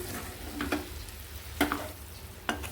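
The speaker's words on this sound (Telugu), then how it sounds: "ఇలా ఉడికించి పెట్టుకున్న బంగాళదుంప ముక్కల్ని వేసేసి మొత్తం కలిసేలాగా ఇలా కలిపేసుకోండి" Boiled potato pieces being stirred into a curry of drumstick leaves in a pan, soft sizzling under a few quick scraping strokes of the spoon, close and quiet, no talking.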